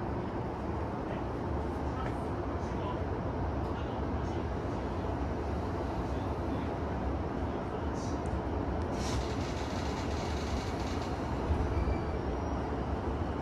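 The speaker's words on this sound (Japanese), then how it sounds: "そして列車は高尾駅を発車。" A Chuo Line train pulls out of Takao Station, heard from inside as a steady, loud rumble of wheels and motor that stays even throughout, with faint higher squeals near the end.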